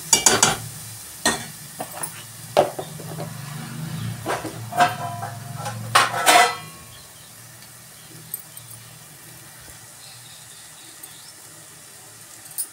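A spoon scrapes and clinks in a pot of chicken curry with turmeric and wet coconut. The stirring strokes are quick and uneven, with a soft sizzle under them, then the pot goes quiet for the last few seconds.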